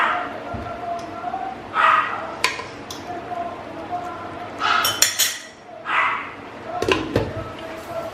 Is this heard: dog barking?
yes